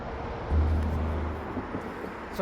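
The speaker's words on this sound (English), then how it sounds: "Sorry for the road noise in the back." Steady low rumble of road traffic drifts through an outdoor disc golf park in Bremerton, Washington, a constant distant wash of passing vehicles with a slightly louder swell partway through.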